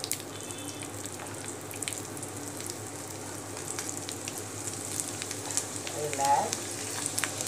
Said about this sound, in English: Now it's very hot, and adding mustard.